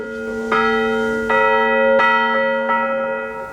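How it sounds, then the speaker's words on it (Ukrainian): A large church bell, one of the biggest in its region, rings out in several deep, resonant strikes at a 135-year-old church in Holyn, Ukraine, each tone lingering and overlapping the next, loud and close. "Оцей дзвін один з найбільших дзвонів в області."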